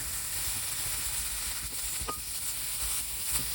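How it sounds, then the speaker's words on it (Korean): Bacon frying in a pan as a pasta topping, giving a steady crackling sizzle with occasional stirring clicks and small pops throughout, close and fairly quiet, with no talking. "먼저 고명으로 얹어줄 베이컨을 볶아줍니다."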